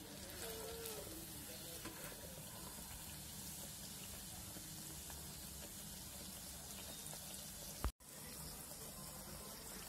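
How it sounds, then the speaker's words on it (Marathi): Wheat-flour malpua deep-frying in oil until brown, giving a steady, dense sizzle that runs throughout, with one brief sharp bump near the end and no talking. "तर व्यवस्थित ब्राऊन कलर येईपर्यंत आपण तळून घेणार आहोत त्याला।"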